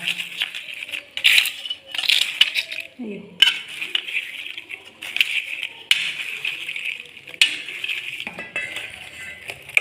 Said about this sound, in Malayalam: ഇത് നമുക്കൊന്ന് ഇളക്കി യോജിപ്പിച്ച് കൊടുക്കാം കേട്ടോ